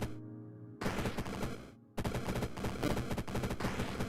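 Bursts of automatic gunfire from a video game, loud and close: a short opening volley, a brief gap, then a long dense rattle of rapid shots that carries to the end with no talk.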